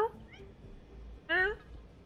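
A domestic house cat meows close by. One short meow is followed a second later by a louder, rising meow against a quiet room.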